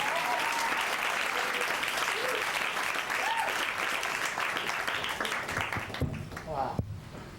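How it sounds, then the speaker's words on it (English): A comedy club audience applauds and cheers for a comedian taking the stage, a dense steady wash of clapping with crowd voices and whoops mixed in, thinning out near the end as the noise fades. "Round of applause for Chris DeLuca, everybody."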